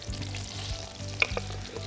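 Bulgur and shrimp dish sizzling in a frying pan, a steady soft crackle with occasional stirring scrapes and a sharp tap, fairly quiet and free of talk.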